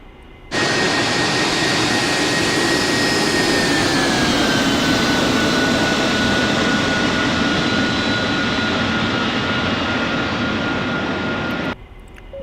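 An AV-8B Harrier jet engine runs in a flight simulator game, starting abruptly into a loud, steady roaring whine with a slowly falling tonal note, holding for about eleven seconds before cutting off sharply, with no talking.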